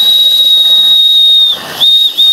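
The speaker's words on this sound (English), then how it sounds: "Old Farmer McDonald is coming with his steam tractor." A toy steam tractor's whistle shrills steadily and close, briefly dropping out twice, over a continuous steam hiss.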